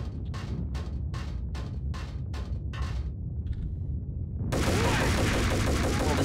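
M4 rifle fire in the video game Max Payne: about eight sharp, close bursts of rapid shots spaced roughly half a second apart, then a sudden loud, sustained roar of noise.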